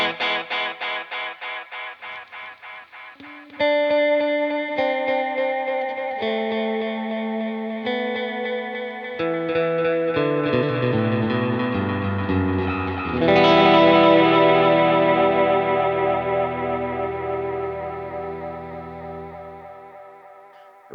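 Ambient electric guitar notes are played through a delay set to high feedback, so each note repeats many times in dense, overlapping echoes that build into a sustained, shimmering wash, with no talk.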